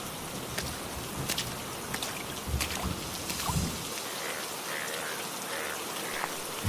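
Steady rain falls on surfaces during a rainy day at a quiet meat market, a continuous hiss with scattered drips and a few low rumbling thumps, no voices.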